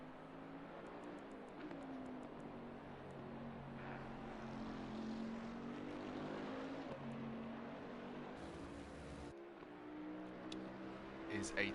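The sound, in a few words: Bentley GT3 race car engine in a racing video game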